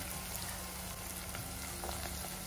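Green peas tipped into a hot pan for sevai upma, giving a continuous close sizzle and bubbling that stays steady throughout, no speech.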